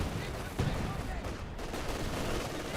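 A grenade blows up in a Company of Heroes 2 battle, one dull thud early on, lost in a steady backdrop of rifle and machine-gun fire.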